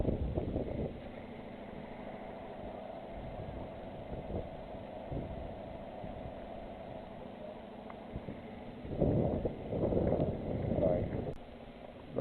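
A small motor boat's engine runs at sea in rough water, a steady low drone under wind buffeting, with louder surges of water and wind noise near the end and no clear talk.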